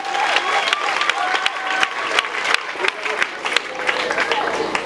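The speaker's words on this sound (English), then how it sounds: "Please, can we give a round of applause for them" Audience applause for school visitors, loud and uneven with sharp individual claps, crowd noise, a few cheers and voices mixed into the clapping.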